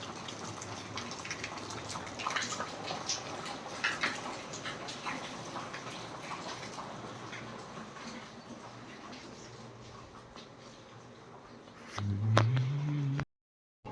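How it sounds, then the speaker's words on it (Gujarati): Heavy overnight downpour from rain-laden clouds, a steady dense hiss of falling water that holds evenly for most of the stretch, with a brief louder low-pitched sound rising near the end before it cuts off. "સરસ મજાનો વરસાદ પડે છે"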